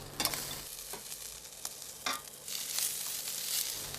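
Shredded ginger, peppers and spring onions stir-fry in a wok, a crackling sizzle punctuated by irregular scrapes and clacks of a spatula tossing the food, close and with no speech.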